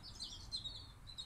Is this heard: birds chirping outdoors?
yes